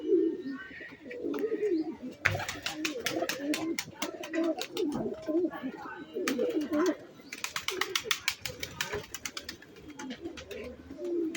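Pigeons on a rooftop near their coop, low throaty cooing throughout with bursts of fluttering wing claps, fairly close, with faint background voices.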